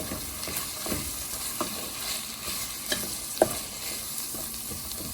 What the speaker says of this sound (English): And then you stir this all together.